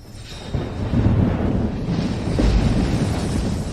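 A loud, sustained rumbling blast from a magic thunder spell, with a deep booming swell, dense and roaring like a big explosion or thunderclap, continuing for several seconds without any voices.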